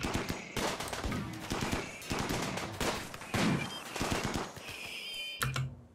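Repeated sharp rifle shots from a RimWorld firefight crack in an irregular series of close, bright reports, with a faint tonal whine near the end.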